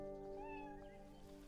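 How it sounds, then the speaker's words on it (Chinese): A kitten meows in one drawn-out, wavering cry over a steady low background hum. "刚才一个小猫咪，你来把它吓跑了"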